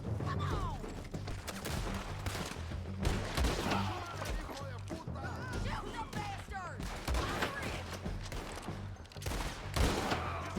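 Gunfire in Red Dead Redemption 2, repeated sharp shots in irregular bursts over a busy game soundscape with background tones, fairly dense throughout.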